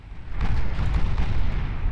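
Naval guns firing on automatic in the warship game Ultimate Admiral Dreadnoughts: a steady, loud rumble of heavy booms rolling into one another across the whole stretch, with no clear gaps between shots.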